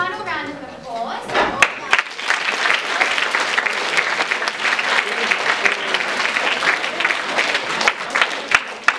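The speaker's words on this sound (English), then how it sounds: "can we just have one final round of applause?" A lecture audience breaks into sustained, dense applause lasting several seconds, following a brief voice at the start, with a few louder individual claps standing out near the end.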